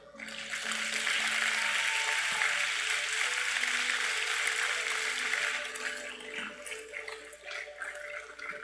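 A church congregation claps in a dense, steady wash of applause that holds for several seconds before fading into scattered claps and a sustained organ-like tone.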